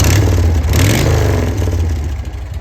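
A 1981 Harley-Davidson FX Shovelhead motorcycle with a newly finished exhaust revs hard nearby, a loud, rough, rumbling roar that surges and then eases off slightly over a couple of seconds, with no voices.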